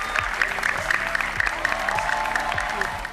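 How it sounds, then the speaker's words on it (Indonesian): Steady applause from a crowd at a football tournament event at Jakarta International Stadium, a dense patter of clapping that continues throughout, with a voice faintly underneath. "Sekali lagi tepuk tangan."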